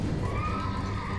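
A horse neighs in the video game Elden Ring, giving one sustained whinny over a dense rumble of game sound with hoof-like clatter beneath.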